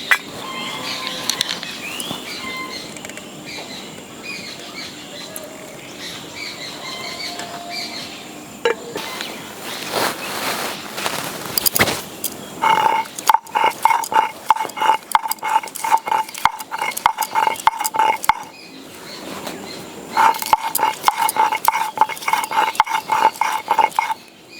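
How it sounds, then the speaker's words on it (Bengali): Ginger and garlic are ground to a paste by hand for a Bengali curd-fish recipe, heard as repeated close scraping and grinding strokes in quick rhythmic bursts with pauses between them. "এবার আদা আর রসুনটা একসঙ্গে বেটে নেব।"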